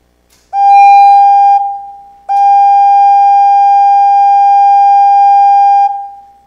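An eCorder electronic recorder sounds as it interacts with an air jet, two steady, pure whistle-like tones, one short and one long, loud and alone.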